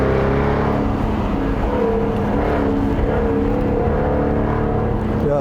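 Jaguar F-Type Convertible R switched to dynamic mode, its engine revving hard and roaring continuously from inside the cabin as it accelerates, loud and sustained with shifting pitch.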